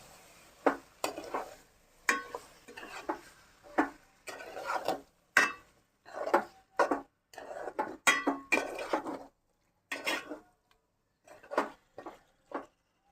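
Food is stirred and scraped in a pan in repeated bursts of rubbing and clinking, each lasting about a second, with quiet pauses between them and soft sizzling underneath.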